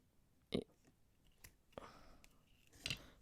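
Scissors snipping through macrame cord, a couple of sharp close cuts with small handling noises between them in a quiet room.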